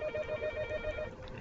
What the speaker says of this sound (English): Alright, I'm going to answer the phone.